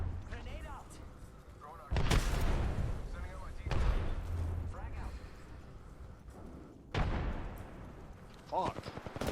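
Video game combat with a thrown grenade: sharp booming gunshots and explosive blasts in several bursts, with a player's voice talking between them.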